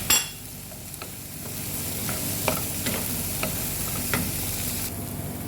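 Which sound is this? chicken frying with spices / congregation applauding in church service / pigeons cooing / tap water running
chicken frying with spices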